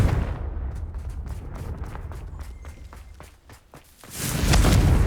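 The Confringo fire spell goes off in the video game Hogwarts Legacy as rapid crackling and thudding game combat sounds, then ends in a loud, deep, rumbling explosion burst near the end.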